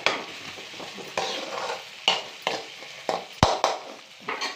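Tomatoes for tomato rice frying and being stirred in an open pan, with repeated scraping strokes of a spoon over a steady sizzle, each stir a short scuffing burst at close range.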